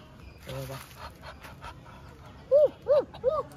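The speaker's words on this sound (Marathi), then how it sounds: "कोंबडी आहे का? बदक आहे बदक." Three loud, nasal duck quacks close by in quick succession near the end, after a stretch of faint voices and outdoor background.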